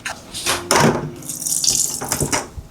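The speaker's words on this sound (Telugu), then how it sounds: "కొంచెం నీళ్ళు వేసి కలుపుదాం" Water pours into a pot of milk and is stirred in, a short run of splashing, gurgling pours and sloshes lasting a few seconds, close and fairly loud with no talk.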